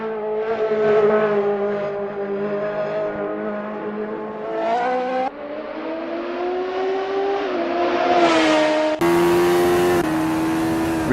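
A Radical SR3 race car on an outlap of the Nürburgring Nordschleife during an endurance race, its engine revving loud and close, pitch climbing and dropping through gear changes with abrupt shifts between segments.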